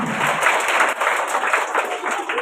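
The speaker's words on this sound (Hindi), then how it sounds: "इस बच्चे के लिए जोरदार तालियां बनती है।" An audience applauds a fifth-grade student who placed second at a prize-giving for children, with a steady, dense wash of clapping lasting the whole stretch at close range.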